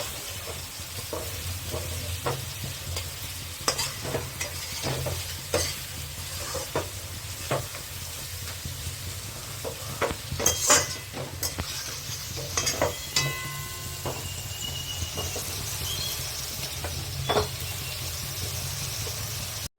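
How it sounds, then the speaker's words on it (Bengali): Onions sizzling steadily in hot oil, frying until lightly browned for pahadi chicken, while a utensil scrapes and stirs the pan in irregular strokes, close and fairly loud. "পেঁয়াজগুলো হালকা করে লাল করে নেব, লাল করে ভেজে নেব হালকা।"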